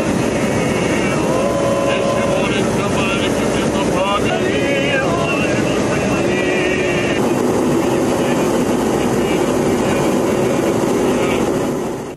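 Airplane in flight, a loud steady engine drone filling the whole stretch, with a voice speaking over it partway through.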